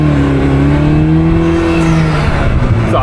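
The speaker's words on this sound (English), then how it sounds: "You'll hear that turbo spool up." A 2021 Vanderhall Venice GT engine revs loud and close, its pitch climbing steadily as a turbo whine spools up, with road and wind noise underneath.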